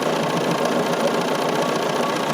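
Steady, loud motor hum of an embroidery sewing machine stitching a quilted leaf sampler block, running continuously without pause and close by.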